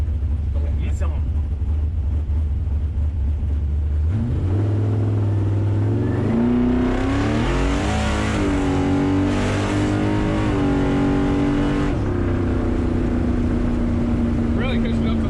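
A 1972 Camaro engine drones and then climbs through revs while driving on city streets, loud and steady inside the car, with the pitch stepping up and holding near the end, as people talk over it.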